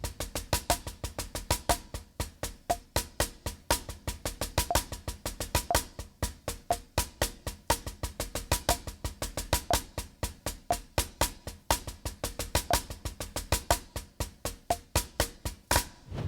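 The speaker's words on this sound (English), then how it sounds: "but then you can try it in a different subdivision like 16th notes. That would sound like this." Drumsticks play a six-stroke roll in steady sixteenth notes on a drum practice pad, a dense, even stream of crisp, close taps with regular accents, continuing alone for the whole stretch.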